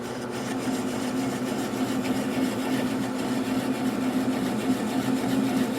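A wood lathe runs steadily at slow speed, around 200 RPM, while turning a bowl, giving a constant low motor hum with a faint whir, close and without variation, and no one speaking.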